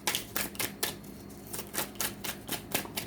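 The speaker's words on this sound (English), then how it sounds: "I want to take another card here." Tarot cards are drawn and laid down one after another in quick, light taps and slaps, about a dozen close soft clicks in an irregular rhythm.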